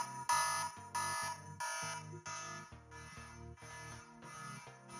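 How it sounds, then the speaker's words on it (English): A Homey Pro home surveillance alarm sounds its chime after a living room door is opened, a repeating electronic tone pattern in regular bursts, loud and clear with no talking. "This is the chime that rings when"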